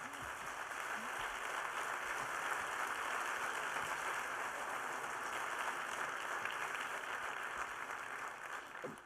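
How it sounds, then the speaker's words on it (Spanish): Audience applause closing a conference talk, a sustained, even rush of many people clapping, moderately loud and unbroken throughout, heard without any speech over it. "No sé si has escuchado desde allí los aplausos"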